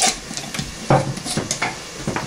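Biscuit dough mixture being stirred in a bowl for country-style biscuits, uneven scraping and knocking strokes of a spoon against the bowl, close and fairly loud, with no talking.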